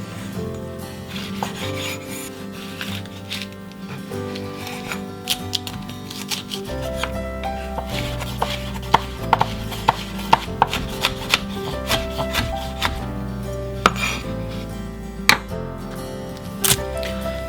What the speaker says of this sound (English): First we're going to deseed and chop 3 green chilies.